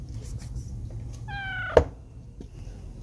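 A domestic cat gives a single short meow, offered meat, over a steady low background rumble with no talking.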